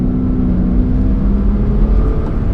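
A 2005 Porsche 987 Boxster S with a 3.2 liter flat six and Tiptronic S pulling hard in third gear, a steady low droning engine note heard from inside the cabin, close and constant, with no talk.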